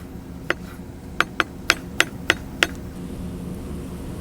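A knife strikes a cutting board in seven sharp, separate taps while pickles are minced finely, with uneven gaps between the knocks. The sound is close and fairly loud.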